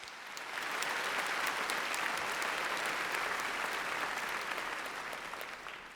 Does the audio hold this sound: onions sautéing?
no